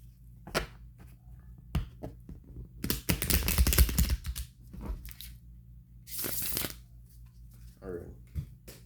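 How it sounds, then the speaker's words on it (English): A deck of tarot cards is shuffled close by. There are scattered soft flicks and one dense riffling burst, followed by a brief swish, at low volume. "let's get one more shuffle here for you"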